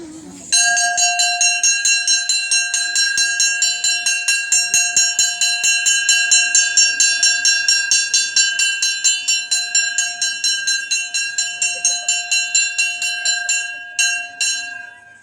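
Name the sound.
bell ringing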